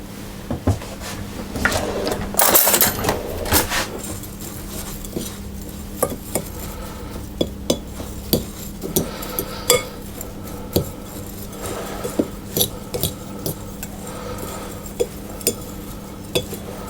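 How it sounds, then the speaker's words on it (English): Utensil clinks and soft scraping in a bowl as flour and corn flour are stirred together for gluten-free vegan raspberry bars, irregular close taps over a low steady background hum, with no speech. "and the corn flour into that bowl, and then we just need to mix those around"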